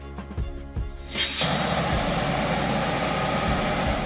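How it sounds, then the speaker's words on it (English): A farm tractor's engine starts with a few quick knocks, then settles into a steady, loud, continuous running drone. "A vehicle used in agriculture for pulling or powering various farming implements and machines."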